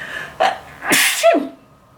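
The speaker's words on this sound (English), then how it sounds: "I'm gonna sneeze." A single close sneeze: a sharp inhale build-up followed by a loud, explosive burst, alone with no talking.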